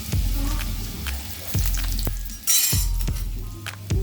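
Chopped garlic and a piece of ginger sizzle loudly in hot oil in a pan, with a bright hiss swelling as they are added and light metallic clinks from stirring close by.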